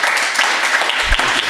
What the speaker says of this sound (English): a round of applause for Noelle.